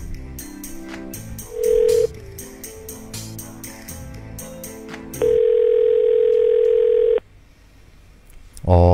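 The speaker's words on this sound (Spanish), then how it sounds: "vamos a ver si está el teléfono" A telephone line gives a brief tone and then a steady, clear dial tone lasting about two seconds while a call is placed, over quiet background music, before the line goes silent.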